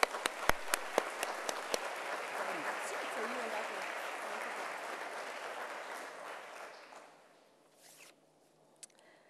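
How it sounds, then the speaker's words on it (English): A crowd at a Dillard University honors convocation applauds the honors program director with a few sharp claps at the start, then a sustained wash of clapping that fades out near the end. "So please join me in providing her a round of applause."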